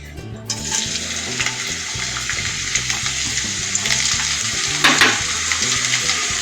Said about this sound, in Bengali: এখানে কড়াইতে দিয়েছি 2 চামচ সাদা তেল। এতে আমি প্রথমেই রসুন কুচি আর লঙ্কা কুচিটাকে ভেজে নেব।